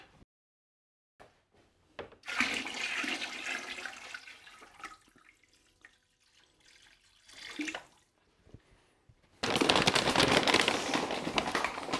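Water poured from a container into a bucket of dry clay powder while mixing clay slip, with two loud, broadband rushing pours separated by quieter handling and shuffling noises, the second pour strong and sustained.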